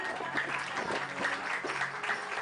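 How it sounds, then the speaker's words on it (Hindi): Steady applause from a gathered audience greets a guest at a community prayer gathering, a dense patter of many hands lasting a couple of seconds. "तो इनके लिए जोरदार तालियां"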